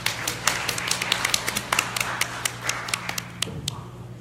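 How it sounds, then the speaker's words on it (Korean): Sparse, uneven hand clapping from a conference audience welcoming a blockchain professor to the lectern, the distinct claps scattered across the room over a low steady hum before fading out. "큰 박수 부탁드리겠습니다"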